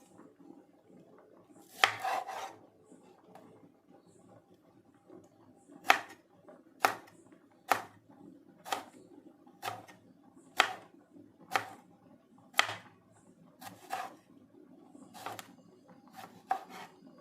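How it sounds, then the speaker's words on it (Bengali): Green tomatoes being chopped with a knife on a board: a dozen sharp, evenly spaced cuts at a steady rhythm, close and clear, following an earlier cluster of cuts, with no talking. "সব টমেটোগুলো কেটে নেওয়া হয়ে গেছে।"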